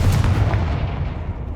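Confringo fire spell from Hogwarts Legacy bursting as a single heavy, booming blast that rolls off into a rumbling decay, loud and close.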